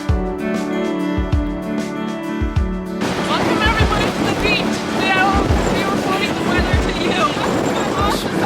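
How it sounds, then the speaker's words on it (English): Strong gusts buffet the microphone on a boat outing in Iceland, a loud, rough rumble over rushing water and waves that follows a stretch of tonal music and keeps surging. "They weren't lying when they said wind gusts today."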